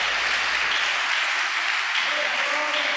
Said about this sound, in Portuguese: Aplauda o Senhor aí, irmão. Aplauda Ele